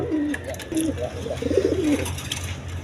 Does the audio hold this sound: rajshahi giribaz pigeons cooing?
yes